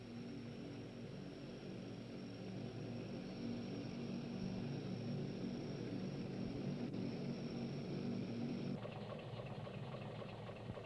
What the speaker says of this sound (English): Hercules C-130 aircraft are also used to transport personnel between New Zealand and Antarctica.